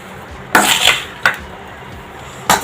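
Potato stir-fry being mixed in a pan with spices and salt, giving three sharp metallic scrapes and clanks of a utensil against the pan, spaced apart, close and fairly loud with quiet pauses between.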